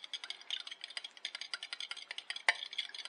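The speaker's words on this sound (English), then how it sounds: "Mix that all up nice." A fork whisking egg, cream and Frank's hot sauce together in a bowl for a fish batter, producing quick, light rhythmic clicking and rattling strokes, close and fairly quiet, with no talking.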